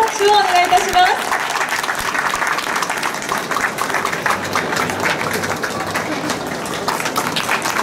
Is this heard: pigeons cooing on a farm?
no